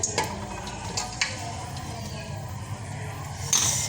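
Fenugreek seeds frying in oil in a pan for a fish curry, a steady soft sizzle with faint stirring clinks throughout, fairly quiet, no talk.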